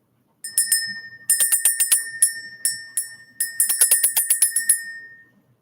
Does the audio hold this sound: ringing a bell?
yes